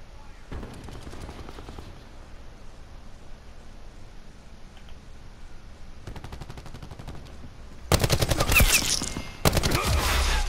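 Rapid automatic gunfire in Black Ops 4 starts as quieter bursts of shots, then closes with loud, close, harsh volleys near the end, and no talking is heard.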